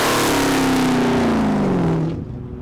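A Chrysler 300C Hellcat revs hard under acceleration, its loud engine note climbing in a steady sweep before dropping away after about two seconds, with no voices over it.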